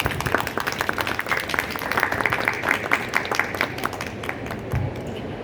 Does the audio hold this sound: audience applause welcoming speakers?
yes